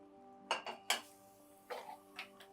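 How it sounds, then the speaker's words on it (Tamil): Metal kadai set down on a kitchen stove, a few light clanks and clinks in quick succession, close and fairly quiet over a faint steady hum. "ஒரு கடாய் ஆன் பண்ணி ஸ்டவ்வில் வச்சுக்கோங்க"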